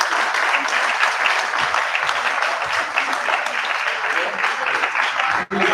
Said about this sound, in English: Let's keep clapping for the Honourable Minister